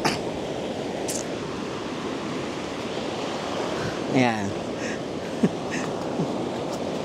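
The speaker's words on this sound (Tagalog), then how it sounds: "malakas ngayon yung alon grabe" Strong ocean waves at a beach in Bagac, Bataan: a loud, continuous wash of surf noise fills the clip, with brief chirps and a short voiced word rising above the steady roar.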